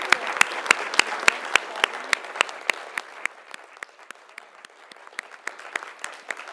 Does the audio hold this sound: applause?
yes